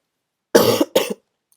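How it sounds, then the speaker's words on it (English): Two close, loud coughs from one person, a sharp harsh burst followed by a shorter second one, then a brief start of another sound. "Sorry, I keep coughing."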